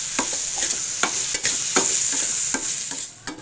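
Fried daal mash being stirred in a pan with julienned ginger and chopped green chillies, a bright continuous sizzle broken by repeated sharp scrapes and taps of the spoon, close and clear.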